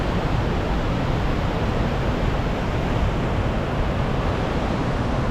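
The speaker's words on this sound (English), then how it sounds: "I could sit here and shoot that waterfall, that waterfall, that waterfall all day long." A waterfall roars in a constant, dense, loud wash of broadband rushing water with no pauses, heard alone without voices.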